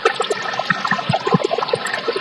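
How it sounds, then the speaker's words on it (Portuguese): Water cascading in a small waterfall within an aquarium filtration system set up for pre-oxygenation, a continuous close splashing and trickling with bubbly drips and gurgles, no voices. "fizemos uma queda d'água, muito bacana essa queda d'água, para fazer uma pré-oxigenação"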